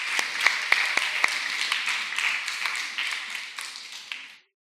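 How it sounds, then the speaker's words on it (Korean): A church congregation claps at a Sunday worship service, a dense, even patter of many hands that carries on for several seconds, then stops abruptly. "우리 박수 한번 쳐주시기 바랍니다."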